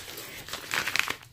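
Packaging crinkles from a diamond painting kit being unboxed, a few sharp close crackles clustering in the second half over a quiet room.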